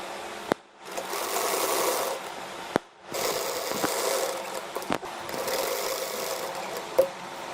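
A sewing machine stitches the neck of a shirt in steady, rapid whirring bursts. The bursts are separated by brief pauses and sharp clicks, and no talking is heard.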